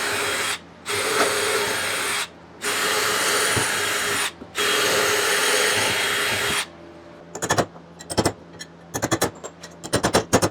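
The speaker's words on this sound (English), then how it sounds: "So, I need to flip this over and drill some holes." A handheld power drill bores holes into the underside of a wooden rolling workbench in three long, steady whirring runs separated by short pauses, followed by a string of sharp clicks and knocks.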